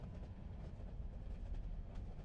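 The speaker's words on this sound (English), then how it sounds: "How long is this train ride?" A train ride in the video game Enderal: Forgotten Stories, a quiet steady low rumble of rolling railcars with faint rhythmic clatter, continuous and without talk.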